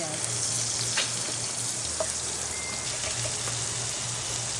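Garlic and onion sautéing in a pan at a farm kitchen, a steady broadband sizzle of frying throughout with a faint low hum underneath and a few small pops, no voices.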